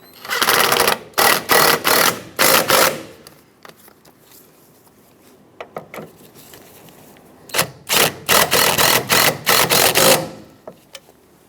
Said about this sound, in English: Let's install the two mounting nuts so we can clamp this on tight.